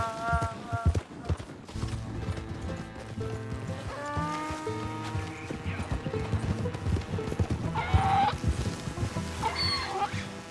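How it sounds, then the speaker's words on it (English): Donkey hooves clop in Red Dead Redemption 2, a steady, fairly close rhythm of hoofbeats running through the passage beneath game music and ambience, with voices talking over it. "it's just a donkey"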